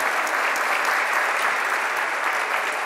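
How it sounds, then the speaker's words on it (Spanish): A room full of people clapping steadily, a dense even patter of applause that stays at a constant level from start to finish. "para quien pido un aplauso"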